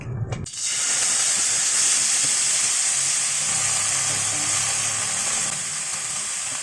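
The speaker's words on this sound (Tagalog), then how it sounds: "Kapag mainit na, ilagay na natin ang ating sisig." Sisig hits a hot pan with a little oil and bursts into loud, steady sizzling close up, a continuous bright hiss that eases slightly over several seconds.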